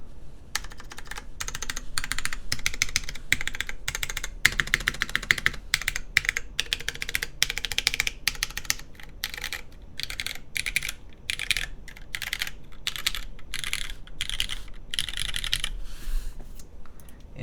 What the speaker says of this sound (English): It sounds like a keyboard.